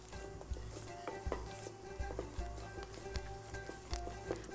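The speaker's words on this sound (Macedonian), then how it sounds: "Мешам." A spoon stirs white sauce in a pan on the stove, sending a steady close sizzle under regular scraping strokes, roughly one every second, with no voices.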